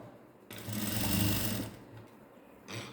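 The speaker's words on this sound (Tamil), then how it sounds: "கரெக்டாக இது மேலேயே நம்ம ஒரு படிமான தையல் போடுறோம்" A sewing machine stitches lining fabric along a garment's shoulder joint in one loud, steady run of about a second, then stops briefly and starts again with a short burst.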